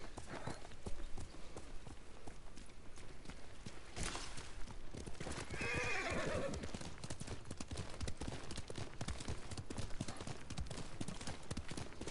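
In the Ghost of Tsushima video game, the horse Kage's hooves clop in a steady, quiet walking rhythm, and a soft neigh rises briefly in the middle of the faint footfalls.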